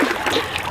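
A quick splash of a belly flop into the sea, a brief burst of churning water heard up close.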